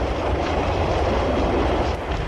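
A late-1950s Paris metro train runs steadily with a continuous, loud rumbling roar and no distinct clicks or breaks, heard alone without any voices.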